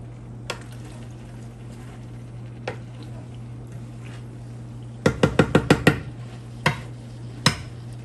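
Curry chicken being stirred in a pot: a run of sharp utensil clicks and scrapes against the pot around the middle, a few isolated taps before and after, all over a steady low hum, no voices.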